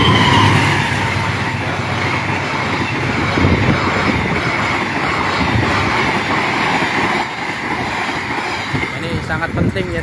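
A train rolls past a guarded railway level crossing in Indonesia, a loud continuous rumble and rattle of wagons close by, with a voice talking underneath.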